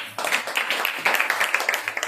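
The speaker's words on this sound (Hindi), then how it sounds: "जोरदार ताली बजाइए।" Church congregation at a Wednesday service bursting into applause, a dense wash of many hands clapping with brief surges, moderately loud and heard on its own.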